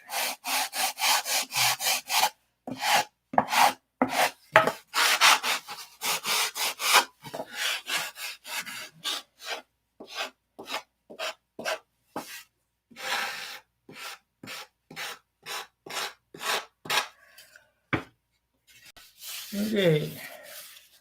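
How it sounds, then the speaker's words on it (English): Sandpaper rubbed over wood in small circles, a rapid run of short scratchy strokes with brief pauses, close and fairly quiet, with nobody speaking. "I'm the Bob Ross of sandpaper"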